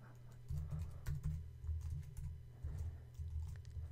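Someone types on a computer keyboard at close range, producing bursts of rapid soft key clicks and thumps in an uneven rhythm with short pauses between runs, quiet and alone.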